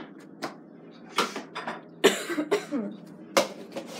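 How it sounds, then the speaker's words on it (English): Several separate coughs and throat-clearing sounds from one person, close and fairly loud, spaced irregularly in a quiet kitchen. "Wow, I have a cough."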